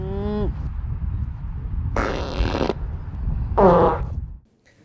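A cartoonish fart sound effect plays three times: a short rising squeak, then a longer raspy blast, then a wet sputtering one, each loud and close over a low rumbling background.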